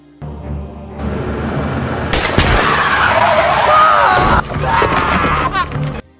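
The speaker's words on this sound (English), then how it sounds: "causing the driver to lose control and crash" In a film scene, a car skids out of control with a long tire screech, then crashes with a sharp impact as shouts and screams rise around it, followed by a short rumbling aftermath.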